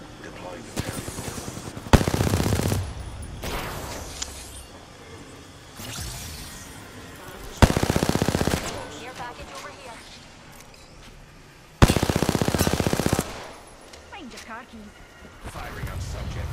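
Gunfire in Apex Legends comes in several loud, sharp bursts of rapid shots, each lasting about a second. Quieter stretches between the bursts carry a character speaking and other game sounds.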